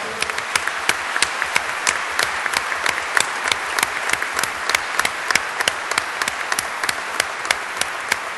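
A political party's national assembly breaks into applause, a dense and steady crowd clapping that carries on evenly with a rhythmic pulse for over eight seconds.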